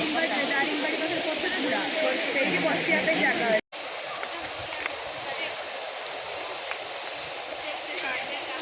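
Rushing water at Tatiguda waterfall, a steady broadband roar heard close, with voices talking over it in the first half before a brief cut, after which the water's hiss continues alone.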